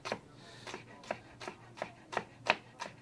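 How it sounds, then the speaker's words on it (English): Fine knife chops on a cutting board, a steady series of about nine crisp taps roughly a third of a second apart, close and clear with no talking, while leek is prepared for a potato-crusted black cod dish. "we're just going to do some really fine chops"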